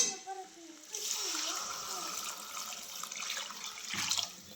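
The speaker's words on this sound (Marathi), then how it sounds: "आणि आता ह्याच्यामध्ये गरम केलेलं पाणी टाकते" Heated water poured steadily into a pan of vegetables cooking for a lunchbox meal, a continuous soft splashing stream lasting a few seconds, ending in a brief louder gush.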